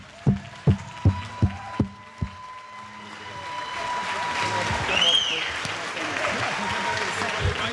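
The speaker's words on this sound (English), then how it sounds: "let's give a round of applause to Mr. Delaney." A few sharp knocks lead into swelling applause and cheering from wedding reception guests for the newlyweds, building and holding loud, with voices mixed in.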